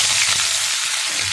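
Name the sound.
chopped onion frying in hot oil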